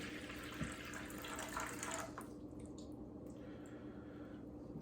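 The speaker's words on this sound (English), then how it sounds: "I just pour my water into the bowl." Water poured into a bowl to start sourdough bread dough, a close splashing pour that fades after about two seconds into quieter trickles and drips.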